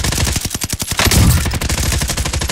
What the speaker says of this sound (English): Two of them shooting me down there. I'm taking fire.